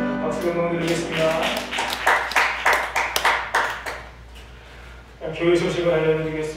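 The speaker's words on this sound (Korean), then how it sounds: "박수 한번 드리겠습니다." A church congregation gives a short round of applause, a burst of quick hand claps that rises and fades between stretches of someone speaking Korean at the front.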